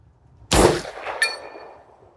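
A single sharp gunshot from a .338 ARC BCA bolt action pistol cracks loudly and alone, followed a moment later by a bright metallic ring of a steel target being struck, which decays slowly.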